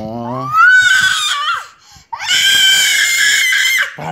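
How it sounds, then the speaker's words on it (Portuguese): A baby screams and cries loudly in a new crib, long sustained wails broken by a brief gasp, close and continuous. "Para de gritar, rapaz. Vai dormir, rapaz."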